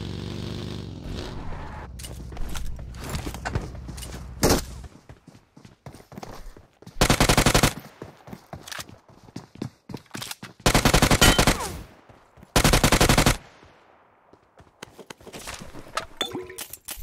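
Machine gun fire in PUBG Mobile: several loud sustained bursts of rapid automatic shots, separated by scattered single shots and brief quiet gaps, with no talking.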